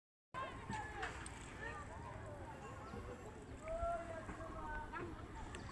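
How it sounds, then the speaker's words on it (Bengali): Small boat crossing a branch river of Hakaluki Haor, a low continuous motor or water rumble near the microphone, with voices talking over it and occasional splashes. "আমরা নৌকা দিয়ে হাকালুকি হাওরের একটা শাখা নদী সেখানে পার হচ্ছি"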